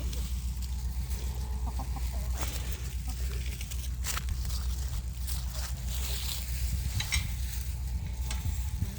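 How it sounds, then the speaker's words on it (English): Chickens peck and scratch at kitchen scraps with busy, continuous clucking and rustling. A soft crackling sound runs throughout, and a few sharper pecks and clicks stand out up close. "Brought the chicken some scraps."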